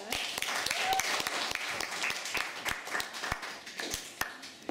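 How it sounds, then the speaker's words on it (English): Scattered, modest applause from a small classroom audience after a media magazine pitch, individual claps distinct and irregular, fairly quiet with some talk mixed in. "Let's give you a round of applause, sir."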